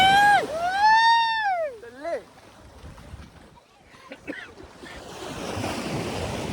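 Rough sea waves at Kakinada beach rush and roar continuously in a loud, broadband wash mixed with wind buffeting. A brief rising and falling voice-like tone comes early, over the surf.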